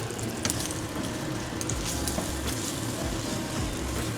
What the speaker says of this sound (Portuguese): vou fritar a farinha, bacon, gordura e tudo junto